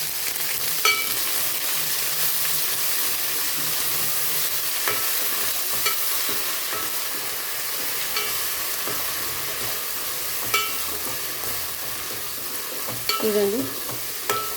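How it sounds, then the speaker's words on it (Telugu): Onions frying in oil as ginger garlic paste is stirred in for fish curry, a loud continuous sizzle with occasional scraping of a spoon around the pan, close, and a brief spoken word near the end. "కాగినాక ఎర్రగడ్డలు దాంట్లో అల్లం వెల్లుల్లి పేస్ట్ వేయాలి. తర్వాత బాగా కలపాలి."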